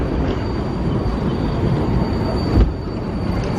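An overground train in Vienna rolls along with a loud, continuous low rumble and a faint high whine, plus one sharp jolt partway through, with no talking.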